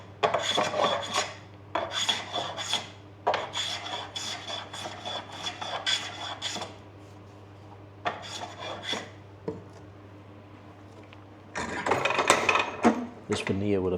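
Someone hand-shapes the timber of a repaired snooker cue with a rasp, taking bigger cuts. The strokes are loud and close, coming in repeated bursts with short pauses, over a steady low hum.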